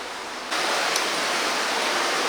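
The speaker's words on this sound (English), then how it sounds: "There's actually a stream that flows through it." Water of a stream flowing through a river cave, a steady broadband rush that swells louder after a moment and continues without pause, close and alone.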